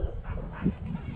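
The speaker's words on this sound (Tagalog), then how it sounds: "May aso kasi." A dog near a roadside house barks and whimpers in short, muffled bursts, close but low in level, over a brief stretch with no clear speech.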